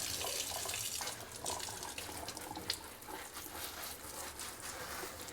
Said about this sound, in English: I'm going to give him a good water and a rinse and maybe try to take better care of him.